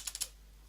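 A few quick keystrokes on a computer keyboard typing a command, three close crisp taps in a fraction of a second followed by quiet.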